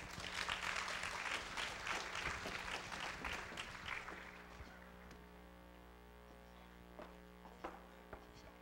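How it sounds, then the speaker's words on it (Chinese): A lecture audience at Asia University applauds warmly to welcome Professor Chen Wenqian, with dense clapping for about four seconds before it fades into a quiet room with a low hum. "现在就让我们以热烈的掌声欢迎陈亚洲大学 陈文茜陈教授"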